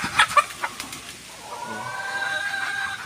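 Hens on a farm giving a few short clucks and calls near the start, followed by softer ambient farmyard sound and distant chatter.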